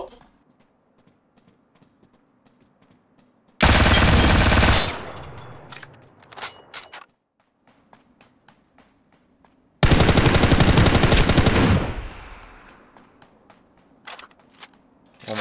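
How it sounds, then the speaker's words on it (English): Two long bursts of rapid automatic gunfire in Ring of Elysium, each lasting about a second, with scattered single shots and a speaking voice in the quieter gaps between them. "Oh my god, shooting at me."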